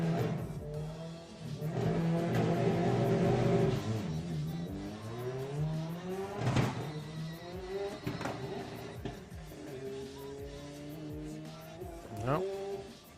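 A VW Mark I Golf on a drag racing run revs hard, its engine note climbing and then dropping sharply with each gear change before surging again, loud and close in repeated rising sweeps.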